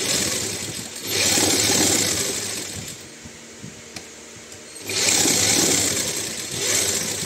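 A sewing machine stitches a zipper onto a young girl's churidar in two steady runs of fast, even mechanical whirring, separated by a quieter pause with light handling clicks.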